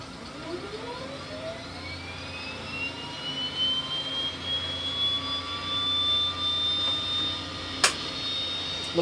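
A Twin Otter aircraft's left engine runs up with its propellers pushed toward full, a steady turbine whine climbing and settling into a high sustained tone over a low engine drone, close and fairly loud, with a brief sharp burst near the end.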